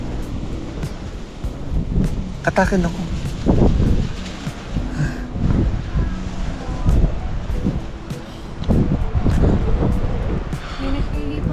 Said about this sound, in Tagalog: Pupasok yung hangin sa likod. Pumapasok yung hangin.